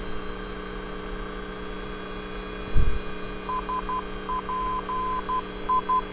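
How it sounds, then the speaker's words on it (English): Faint steady beeping tones in a dot-dash Morse pattern, a radio navigation identifier heard over a headset, over a constant electronic hum, with a brief thump partway through. "And we should hear the same Morse code identifier."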